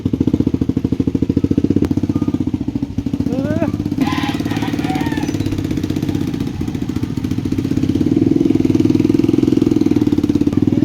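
A motorcycle engine runs with a steady, throbbing drone throughout, swelling louder near the end, while people talk briefly over it on a rural outing.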